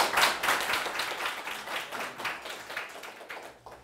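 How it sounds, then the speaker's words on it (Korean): An audience applauds to welcome a lecturer to a talk: a dense burst of clapping that is loud at first and gradually thins and fades over a few seconds, with no voices. "큰 박수로 환영해 주십시오"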